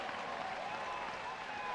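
Auburn fans filling a stadium at an SEC Tournament baseball game against Texas A&M, a broad, steady roar of cheering and clapping from a distance, with a commentator's voice running over it.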